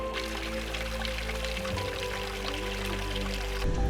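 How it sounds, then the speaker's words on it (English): Water from a natural spring runs and drips along a desert wash trail. It makes a continuous loud rushing, trickling wash with no pauses, a steady low hum beneath it, and no speech. "you just have this natural running spring that runs all year long"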